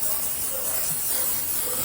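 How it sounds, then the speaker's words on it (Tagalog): A spray product is misted onto a freshly washed car, giving a steady, close, even hiss that lasts the whole moment with no talking. "I-spray natin. Tingnan yung kinalabasan niya."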